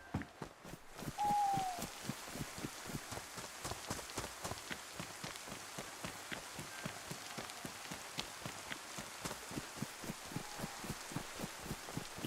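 Rain pattering steadily in a video game, with dense, evenly repeating droplet ticks throughout at a moderate, fairly faint level. A brief whistle-like tone appears early on, and there is no talking.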